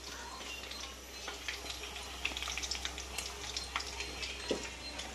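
Fish and kebab pieces fry in a pan with a soft, steady sizzle and light crackle, along with occasional faint scrapes and clinks of a utensil, all fairly quiet and close.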